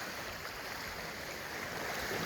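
Muddy floodwater after heavy rain rushes over submerged property land, a steady, full broadband roar of flowing water that stays close and constant throughout.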